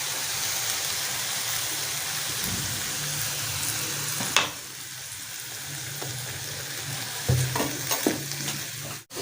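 Soy sauce hits a hot pan of chicken fajita, setting off a loud, steady sizzle and frying hiss with occasional scrapes and stirring knocks nearby.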